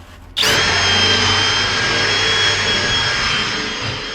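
A drill with a brush attachment starts abruptly and runs at a steady high-pitched whine while scrubbing a well-used grill, loud and close, holding nearly constant for several seconds before easing slightly at the end.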